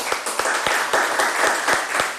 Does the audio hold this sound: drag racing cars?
no